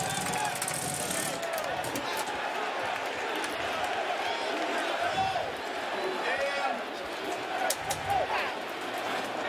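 A baseball stadium crowd roars after Aaron Judge's home run, a broad, steady wash of cheering and clapping that holds loud through the whole stretch, with a commentator talking over it.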